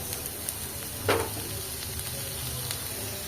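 Raw onions frying in a pan for an onion chutney, a steady close sizzle with a brief louder burst of spattering partway through, no talking.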